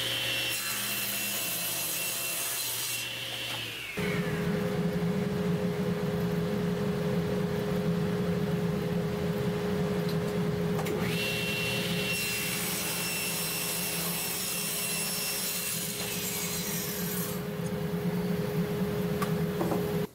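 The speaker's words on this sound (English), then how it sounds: "an eighth of an inch of material will be taken away by the saw blade as we make the cut" A saw blade cuts wood to make a spline joint jig for box corners. Two sustained passes whine steadily, separated by a brief quieter gap, each ending with the blade spinning down.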